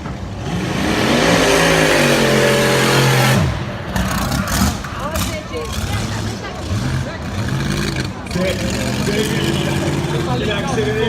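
A drag racing motorcycle at a bike festival revs and accelerates hard, a loud sustained engine roar that rises and then drops into rapid, pulsing revs, with crowd and voices mixed in beneath.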